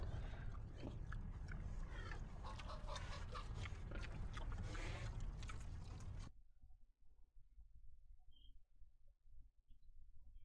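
Ghost chicken clucking in The Secret of Monkey Island video game, a dense, noisy run of fowl-like clucks for several seconds that cuts off abruptly into near silence.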